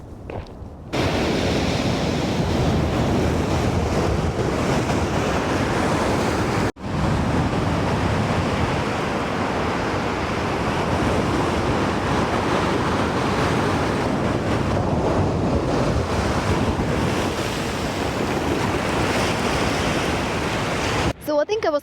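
Ocean surf at Diamond Beach in Iceland, a loud, dense roar of waves mixed with heavy wind buffeting the microphone, steady throughout with a brief dropout partway, no clear talk.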